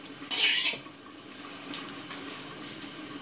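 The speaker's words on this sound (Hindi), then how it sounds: "इसको 5 मिनट ऐसे मिक्स करती रहूँगी।" A spoon scrapes and clatters briefly against a pan while chicken vegetable roll filling with capsicum is stirred over a high flame, followed by a faint, steady background hiss.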